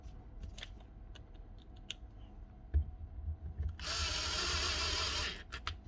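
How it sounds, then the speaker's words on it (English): A hacksaw cuts the small tip off a bolt. After a few faint clicks and taps in a quiet room, a short, harsh rasping burst of sawing lasts about a second and a half. "Try cutting that wee tip off with a hacksaw."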